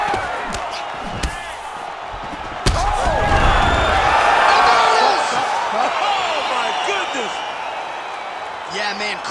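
A UFC 5 fight crowd cheers and roars in a swelling wash of noise, with a sharp slam partway through and a commentator's voice talking over it.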